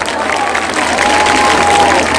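An audience at a kavi sammelan poetry recital claps and murmurs in a steady, moderately loud crowd applause that swells slightly toward the end.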